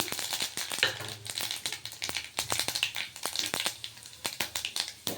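Mustard seeds, chana dal and urad dal sizzle and pop in hot oil in a kadai, a dense stream of sharp crackles and spits close up, with no speech.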